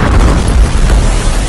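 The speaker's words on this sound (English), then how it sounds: "This guy was shooting a selfie video when a missile struck." A missile strike explosion in Kharkiv, Ukraine, heard as a loud, close, heavy boom with a rumbling blast that stays strong and dense for the whole moment.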